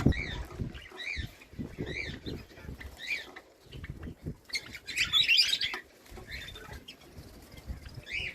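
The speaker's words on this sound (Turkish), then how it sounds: "Gördüğünüz gibi burada papağan var. Muhabbet kuşu var. Gökkuşağı ispinozu var." Several caged birds, a parrot, budgerigars and rainbow finches kept together, chirp and tweet in short repeated bursts, close by, with soft rustling and faint talk in the background.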